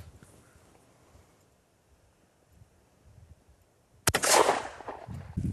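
A cocked gun fires a single loud, sharp shot outdoors after several seconds of near-silence with faint rustling, the blast's crack followed by a short rumbling echo.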